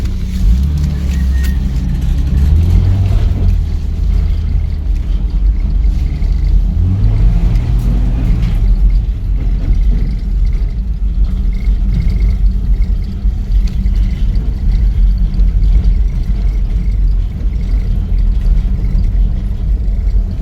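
A 1989 Jeep Comanche pickup engine rumbles steadily as the truck drives forward, a loud, close, continuous low drone with slight rises in revs and no talking.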